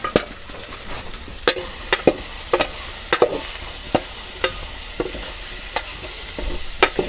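Pasta being stirred and fried in a hot pan for Chinese-style pasta, a steady sizzle under repeated scraping and clinking strokes of a spoon against the pan, close and fairly loud, with no talking.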